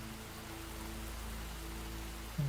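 Misty rain in the video game Enshrouded, a steady soft wash of falling drops over a low droning ambient hum, with a brief low thud near the end.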